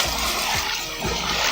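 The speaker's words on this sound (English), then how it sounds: "You can see a little bear swimming along the water." Water splashing and rushing as a bear swims in a Zoo Tycoon 2 underwater viewing enclosure, a steady watery wash with brief swells, close and continuous.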